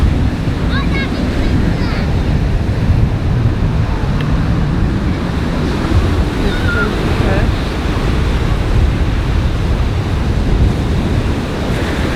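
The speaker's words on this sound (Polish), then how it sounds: "Ostatni rzut oka na morze." Sea waves break steadily on a shore, with a continuous loud rushing surf and heavy wind buffeting the microphone throughout.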